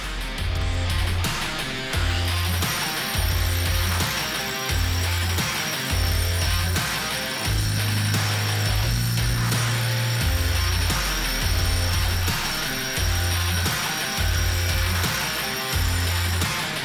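A diamond contour blade on a power tool grinds a slight chamfer along the top edge of a porcelain paver, a steady loud abrasive whine broken by regular rhythmic dips and surges as the blade passes along the edge.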